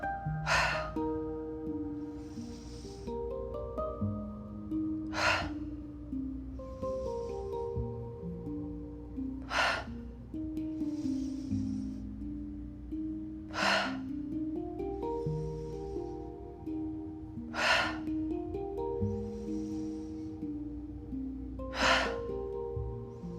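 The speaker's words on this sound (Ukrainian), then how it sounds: "Вдих. Викид. Вдих. Затримка. Викид." During a stress-relief breathing exercise, sharp forceful exhales burst out about every four to five seconds, with quieter breaths between, over soft sustained harmonic music.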